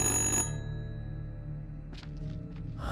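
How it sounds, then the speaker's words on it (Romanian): A telephone rings inside a video game, a bright electronic trill that is loudest in the first half-second, then fades into a steady tonal hum with a few short chirps near the end. "Sună telefonul."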